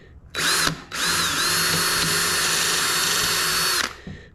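An impact driver sinks screws into thick plywood for a small workbench, with a short burst followed by a long, loud, steady whine that stops abruptly, heard close and without talk.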